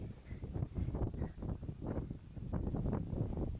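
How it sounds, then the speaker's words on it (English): Steady wind blows outdoors at a historic samurai battlefield site in Matsushiro, Nagano, buffeting the microphone with continuous low rumbling gusts and no speech. "It's so windy anyway."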